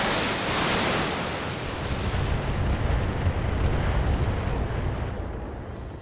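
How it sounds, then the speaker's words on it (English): Artillery barrage fire in a video game, a dense, continuous rumbling roar of overlapping blasts that stays loud and steady throughout, with no distinct gaps between impacts. "Barrage fire for effect."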